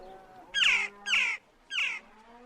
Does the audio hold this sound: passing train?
no